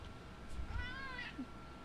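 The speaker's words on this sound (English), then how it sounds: "Meow, meow, meow, meow." A cat gives a short, faint meow, a single rising and falling cry in a quiet room with low background rumble.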